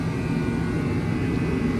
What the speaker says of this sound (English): I'm going to spray engine bay now black to match these.